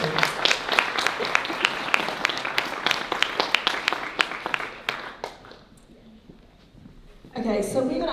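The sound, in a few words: applause for alumni panel members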